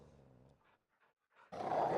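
Dogs growl in The Witcher 3 video game, a low rumbling snarl that builds in the second half, loud and close, with no talk over it.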